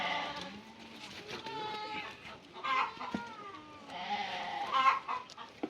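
Sheep on a farm during a parasite health check, bleating several times in wavering calls amid other livestock noise, with people talking quietly in the background.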